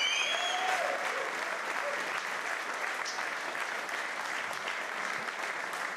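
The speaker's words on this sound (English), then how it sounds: "Would you please give a very big round of applause to David Wallace and Conrad Smith." Steady applause from a studio audience greeting rugby players David Wallace and Conrad Smith, a dense wash of many hands clapping continuously at even volume throughout.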